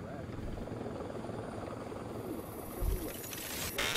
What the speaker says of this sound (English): That freaking helicopter, man.